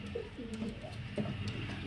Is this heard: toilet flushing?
no